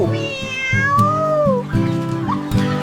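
A kitten meows in a few clear, drawn-out cries, close and loud, with wavering pitch and a short chirp near the end.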